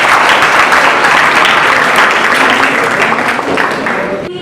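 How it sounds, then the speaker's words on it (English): Loud, dense audience applause for students at a school inter-house science quiz competition, steady clapping throughout from a large crowd, tapering slightly near the end. "have a big round of applause for students"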